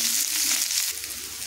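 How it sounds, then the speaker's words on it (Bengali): Chopped onion, garlic and green chilli frying in a pan, a continuous bright sizzle with soft stirring scrapes, close and steady for a brief stretch. "তো এগুলো দিয়ে এগুলোকে একটু নাড়াচাড়া করে ভেজে নেব"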